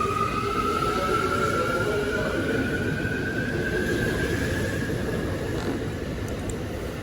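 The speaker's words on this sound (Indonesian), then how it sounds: "Oke, kereta sudah jalan dan saya harus menunggu kereta berikutnya." A train rumbles steadily with a rising whine as it pulls away, a continuous loud mechanical roar with no voices.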